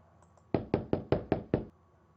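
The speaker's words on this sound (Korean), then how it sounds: "똑똑똑 요셉이 한 여관문을 두드렸어요" A wooden inn door is knocked as a story sound effect: six firm, evenly spaced knocks, close and clear, with nothing else around them.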